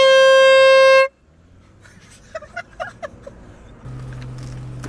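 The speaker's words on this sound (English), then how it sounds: "And the horn is over there." A loud, steady horn blast with a rich stack of harmonics sounds for about a second and then cuts off abruptly. Faint chirps and a low hum follow it.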